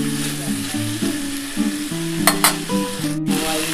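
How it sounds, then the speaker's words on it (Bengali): Vegetable curry sizzling in a pan as water is poured in, a steady crackle with stirring clinks and a tonal music bed underneath, no talking. "দেখো এবার আমি জল দিয়ে দিলাম"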